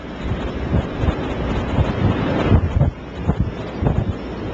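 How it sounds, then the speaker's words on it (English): Blizzard wind in Iowa in 2007 roars steadily and buffets the microphone, driving snow into drifts about three feet deep, with gusty surges and no voices. "Look at how big the drift of the wind is."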